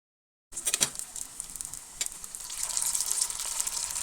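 Soya cutlets frying in hot oil give a steady, close sizzle that begins abruptly, with a few sharper crackles early and a denser, louder hiss building toward the end. No voices are present.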